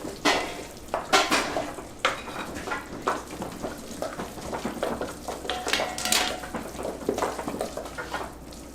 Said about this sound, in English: So go ahead and you mix that in and go in round circular motions.